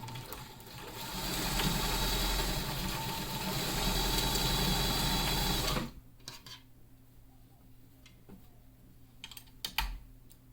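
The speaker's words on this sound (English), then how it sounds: "We're doing a chain sewing style, so we're just sewing the pieces that we have in front of us." Sewing machine chain-sewing medical mask pieces, a loud steady mechanical whir running for about six seconds before stopping abruptly, followed by quiet room tone with a few faint clicks and handling noises.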